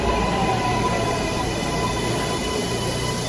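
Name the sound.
New York City L subway train arriving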